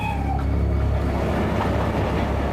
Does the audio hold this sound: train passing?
yes